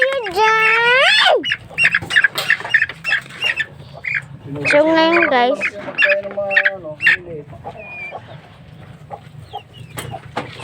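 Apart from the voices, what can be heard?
chickens and ducks squawking and clucking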